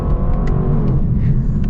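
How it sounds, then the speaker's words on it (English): A loud, low engine rumble from a 2023 Lexus LC 500's naturally aspirated V8 holds steady and close, a deep throaty drone from the car driving with no speech. "love the sound that this naturally aspirated V8 makes"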